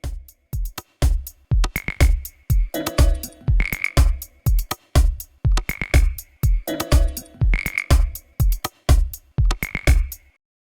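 Looped beat in Ableton layered with a duplicate track given a groove and a filter, playing as a repeating pattern of punchy percussive hits with tonal chirps, rhythmic and alone.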